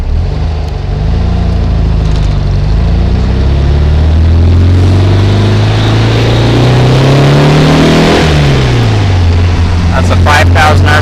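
A 1800 engine fitted with a 009 distributor revs up smoothly and loudly, its tone climbing to about 5,000 RPM. The pitch then drops suddenly and it settles back to a steady drone, recorded up close.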